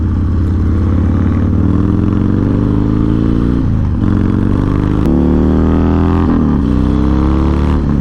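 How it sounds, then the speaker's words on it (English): A Harley-Davidson Dyna Low Rider S 110 Twin Cam engine with a 2-into-1 exhaust rumbles loudly and steadily, its deep uneven note rising and falling as the bike accelerates through gears, close and continuous. "A lot of Harley shake going on with this engine, especially with this 2-into-1 exhaust right here."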